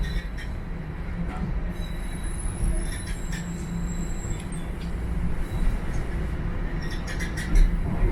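Toronto subway train wheels squeal in thin, high-pitched screeches on a sharp curve over a steady low rumble of a moving rail car, continuous throughout.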